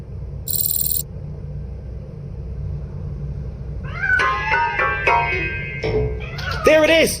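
A few meows from a cat in RoboCop: Rogue City, including a drawn-out rising call near the end, mixed with game music tones and a low background hum.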